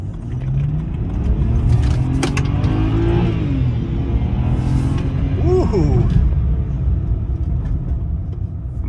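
A $500 BMW's engine runs as the car drives along, a steady loud rumble with a brief rising rev in the middle and a short exclamation from a voice.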